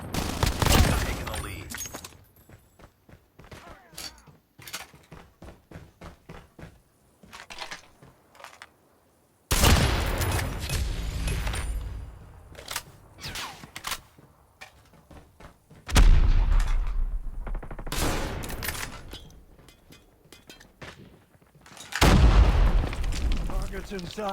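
DL Q33 sniper rifle shots in Call of Duty Mobile sound as loud, sharp blasts with heavy booming tails, a few of them spaced several seconds apart, among softer game action noise and voices.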